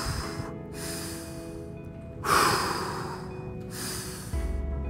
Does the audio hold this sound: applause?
no